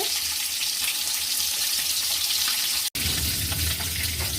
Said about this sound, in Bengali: আমার মাছগুলো কিন্তু ভাজা হয়ে যাচ্ছে